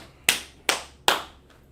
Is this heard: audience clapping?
yes